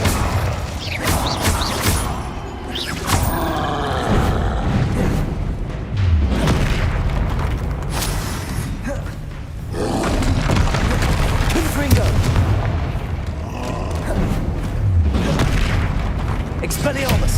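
Spell blasts and explosions from combat in the video game Hogwarts Legacy, a continuous run of booming impacts and crackling bursts, with a voice shouting spell names over them throughout.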